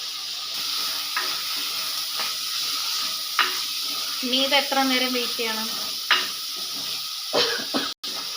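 Tomatoes and green chilies fry in a pan for chicken curry, a steady sizzle with occasional stirring and scraping clatter, while someone talks briefly over the cooking.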